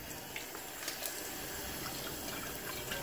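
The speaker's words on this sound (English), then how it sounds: "we're going to run the hot water" Hot water running from a kitchen tap onto a cast iron pan during rust removal with vinegar, a steady close hiss and splash that holds for about three seconds with no speech.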